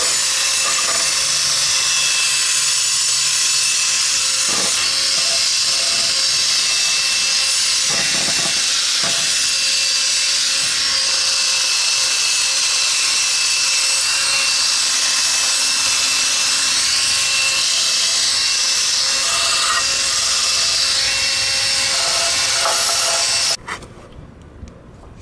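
A drill fitted with a wire brush scrubs chipped paint off a scooter body, a loud, continuous abrasive whir that holds steady for over twenty seconds before cutting off abruptly.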